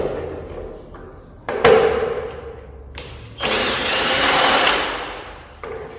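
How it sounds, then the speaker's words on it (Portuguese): A cordless electric screwdriver works on a BMW F800GS motorcycle, whirring in several short bursts of varying length, loud and close, with pauses and small clicks between runs. "Eu vou usar a desparafusadeira."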